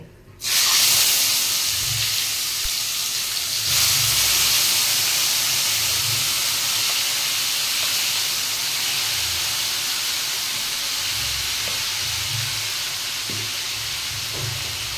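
Grated tomato dropped into hot oil bursts into a loud hissing sizzle that surges once more shortly after and then settles into a steady, slowly fading spatter.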